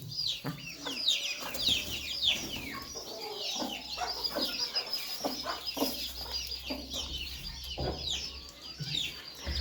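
Hens let out into a yard cluck steadily throughout, with a rooster-like call and overlapping bird chirps close by, alone without talk.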